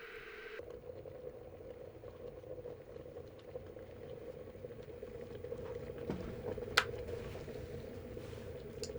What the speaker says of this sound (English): Can you hear now? The water is boiling.